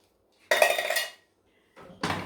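Two sharp plastic clatters close by as a Tupperware Micro Pro Grill lid clicks into place, a longer rattling click followed by a short pause and a second quicker snap.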